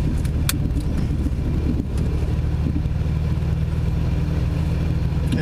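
A Toyota Supra MK2 drives with a steady low engine drone and road rumble heard from inside the cabin, constant and moderately loud with no talking.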